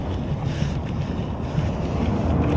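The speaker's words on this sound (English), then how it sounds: "There's water coming into the car." Floodwater rushing into a car during a flood, a dense steady churning and gushing roar with low rumble, close and loud, alone without voices.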